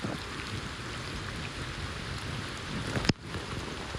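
Heavy rain pours down during a bicycle ride, a loud, dense, continuous hiss of water with one sharp thump near the end.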